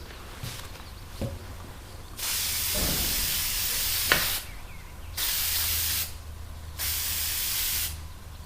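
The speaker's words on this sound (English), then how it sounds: "spray paint a couple big swaths on the rifle" A spray paint can sprays flat paint onto a rifle in three long hissing bursts, separated by short pauses with light handling clicks and taps.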